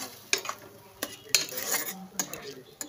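A utensil stirs masoor lentils and fried spinach in a frying pan, giving close, irregular metallic clinks and scrapes over a faint sizzle.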